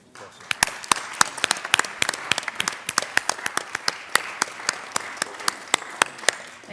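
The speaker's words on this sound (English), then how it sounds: "Please give him a round of applause." Audience applause in the Colorado Senate chamber during a legislative session: a room of people clapping steadily with sharp, dense claps that continue throughout.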